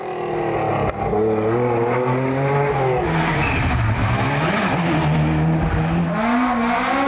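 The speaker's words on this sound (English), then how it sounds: "The Stratos could do some pretty good drifts, but apparently the driver doesn't want to anymore." Lancia Stratos rally car at the San Marino Rally Legend, its engine loud and close throughout, revs rising and falling through gear changes with a continuous rasping exhaust note.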